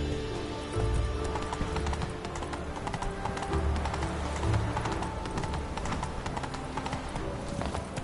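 A horse's hooves clip-clop at a steady trotting rhythm in The Witcher 3: Wild Hunt, close and continuous over a dense layer of ambient game sound.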